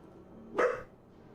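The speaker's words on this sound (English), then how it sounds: "the stinky dog, barking because he heard something outside" Loki, a dog, gives a single sharp bark indoors, close and fairly loud against a quiet background.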